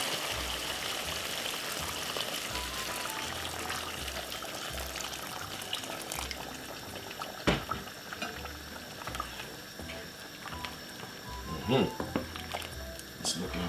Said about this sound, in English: So you have to add some boiling water to this now.